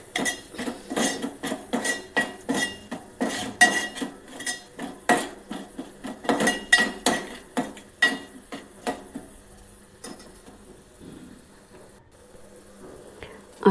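Garlic and red chili powder being stirred in a pan for dry okra, a spoon clinking and scraping against the metal in a quick, steady rhythm for several seconds before it quiets, with no talking.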